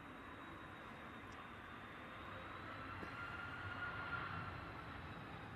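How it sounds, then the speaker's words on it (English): A C-17 military transport aircraft arriving at Manchester Airport, heard as a steady, broad jet engine roar that holds fairly constant and swells slightly toward the end, with no talk over it. "Sounds so good, this plane."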